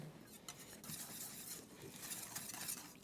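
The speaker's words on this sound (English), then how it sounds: "And now I'm going to whisk in the flour." Wire whisk stirring flour into cake batter for a cola cake, a soft continuous scraping and tapping against a bowl with brief louder clinks near the end, no talk.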